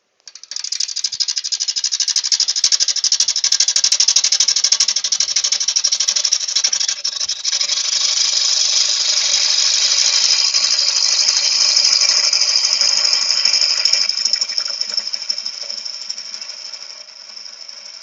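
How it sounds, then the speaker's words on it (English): Wood lathe turning an ash bowl at around 750 rpm while the bottom is faced off, giving a continuous hissing, rattling cut of the tool against the spinning wood that holds steady for the whole stretch and eases at the end. "Turning it about 750 there, and I'm just going to face off the bottom."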